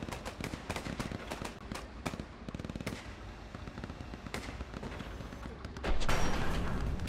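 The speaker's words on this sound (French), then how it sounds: "on se prend des tirs là" Incoming gunfire striking a Sherman tank in Hell Let Loose, rapid bursts of close impacts and shots crackling continuously, with a louder rumbling surge near the end.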